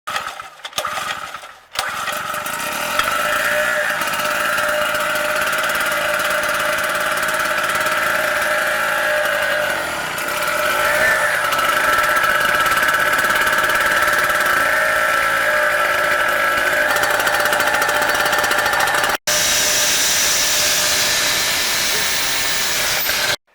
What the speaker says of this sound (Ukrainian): було придбано за кошти педагогічного колективу генератор